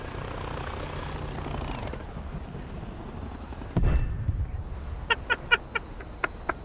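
Helicopter rotor and engine drone in the War Thunder game, a steady whirring roar that cuts off sharply, followed by a thud and a series of sharp popping bursts like gunfire or explosions.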